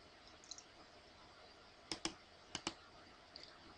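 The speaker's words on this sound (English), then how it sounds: "And I'm gonna click it over here to open." A computer mouse gives a few crisp, quiet clicks in quick pairs close to the microphone, with faint lighter ticks before and after, over a soft room hiss and with no talking.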